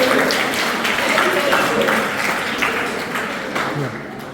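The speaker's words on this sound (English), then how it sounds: "Please have a huge round of applause." Applause from a school audience at a cyber security talk, a dense steady patter of many hands that fills the room and slowly tapers, with a voice or two faintly mixed in.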